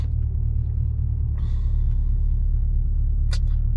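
A Dodge Charger Scat Pack in track mode gives off a deep, steady low-pitched engine rumble in traffic, loud and constant, with a brief hiss and a short high squeak near the end, and no voices.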